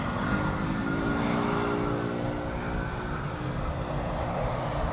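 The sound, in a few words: Air China Cargo 747 cargo plane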